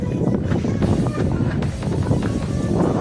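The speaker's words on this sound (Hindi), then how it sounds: "क्या हवा चल रही है" Strong wind buffets the microphone on the sixth floor of a building under construction, a continuous loud rumbling roar with gusty swells and no speech.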